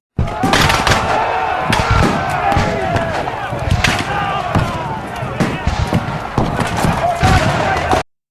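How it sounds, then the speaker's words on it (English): Musket volleys crackle through a Civil War battle scene at Malvern Hill, 1862, as a Union brigade under Brigadier General Charles Griffin fires; dense, sustained loud gunfire with repeated sharp bursts runs continuously for about eight seconds. "Then Brigadier General Charles Griffin has his brigade stand up and lay down fire."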